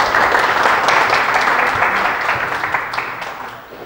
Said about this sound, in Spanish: den un gran aplauso a Poncho